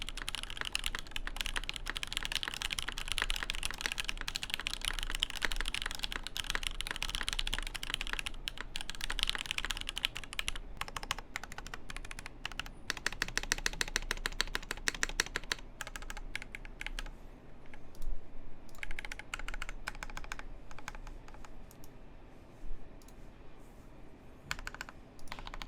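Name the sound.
typing on mechanical keyboard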